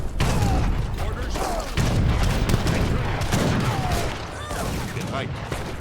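Massed long rifles fire volley after volley in a video game battle, a dense, continuous crackle of overlapping gunshots with booming reports, loud and sustained throughout.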